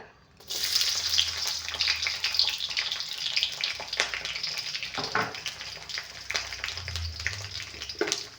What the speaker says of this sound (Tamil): எண்ணெய் காஞ்சிருச்சு, பூண்டு போட்டுக்கலாங்க.